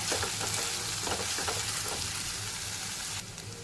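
Ginger garlic paste sizzles and fries in oil over a medium flame, a steady close crackling hiss with faint stirring, cutting quieter near the end.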